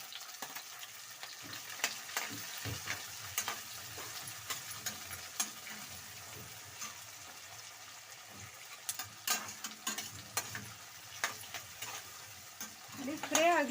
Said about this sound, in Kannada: ಫ್ರೈ ಆಗಲಿ ಸ್ವಲ್ಪ ಟೊಮೊಟೊ ಎಲ್ಲ.